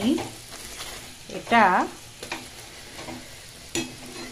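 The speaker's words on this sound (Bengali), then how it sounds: "লোটে মাছের পরোটা হয় কেমন লাগে দেখো। তাও বাটার দিয়ে ভাজা করছি বলো।" Bombay duck (lote fish) paratha frying in butter gives a quiet, low sizzle with light scraping and a brief sharp squeal partway through. No one speaks.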